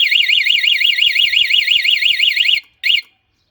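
A loud electronic car alarm siren warbling rapidly up and down in a steady cycle, cutting off abruptly, then a brief final burst before silence.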